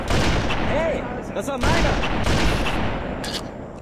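Gunfire in the Halo video game, bursts of shots and booms crackling loudly over game sounds while someone speaks German.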